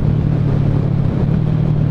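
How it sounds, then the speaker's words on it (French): A motorcycle engine downshifting with a throttle blip, a steady low rumble close by with a slight rise in revs, no talk. "j'ai pris l'habitude de rétrograder comme les 4 cylindres, tu sais, en mode je laisse un petit coup d'accélération pour monter dans les tours"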